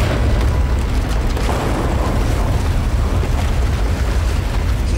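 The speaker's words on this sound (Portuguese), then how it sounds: "Ah, explodiu agora." Explosion in the game Dying Light 2 Stay Human, a loud, dense rumbling roar that holds steady for the whole five seconds without clear separate bursts.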